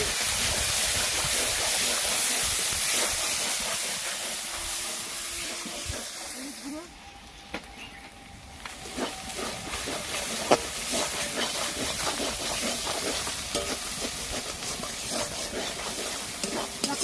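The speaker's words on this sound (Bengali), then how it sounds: "এবার এই মশলাটা ভালো করে একটু কষে নেব।" Ground spice paste with cumin paste frying in a pan for chicken, a loud, dense sizzling hiss close up that briefly drops, then returns with crackles and light stirring scrapes.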